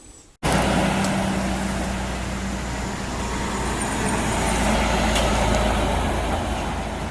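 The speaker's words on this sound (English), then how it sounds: "Alright, truck's almost here." At a construction site, a truck's engine rumbles loudly and steadily close by after a sudden start, with a couple of faint clanks and hisses, and no voices.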